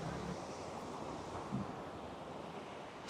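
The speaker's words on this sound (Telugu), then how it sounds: "ఇది నా బ్యాక్ సైడ్ ఉన్నది డ్రంక్ వాటర్ ఫాల్" The Drung waterfall in Gulmarg, Kashmir gives off a faint, steady broadband rush of falling water, heard from a distance and blended with light wind noise.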